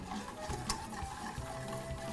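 Hot milk pours into chocolate for Mexican hot chocolate, a quiet continuous trickle and splash close by with no talking.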